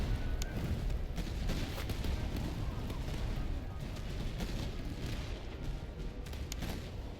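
Artillery fire in the video game Master of Command: a dense, continuous roll of distant booms and cannon blasts under a steady battle din, with no clear gaps for the whole stretch.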